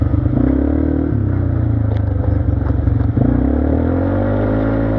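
A 200cc quad bike revs and accelerates up close on an outing, its engine a loud, steady buzzing drone with rising pitch and light mechanical clatter throughout.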